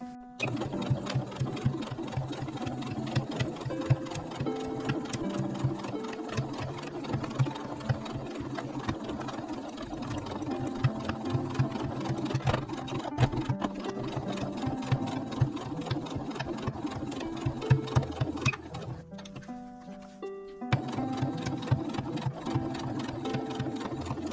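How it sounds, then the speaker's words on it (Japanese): Sewing machine stitching around the edge of a rug, a steady continuous mechanical whir with rhythmic needle clatter that runs almost the whole time, pausing briefly near the end before resuming. "これでここぐるりっともう一周端ミシンをかけます。"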